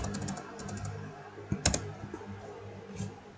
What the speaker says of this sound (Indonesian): kita ketikkan localhost